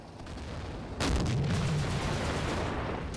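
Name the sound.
artillery fire in the video game Combat Mission: Afrika Korps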